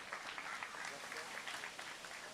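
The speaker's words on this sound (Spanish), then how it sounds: "Por favor, un aplauso para Santiago Alfonso." Colloquium audience clapping for a speaker, a soft, continuous patter of applause heard faintly and at a distance throughout.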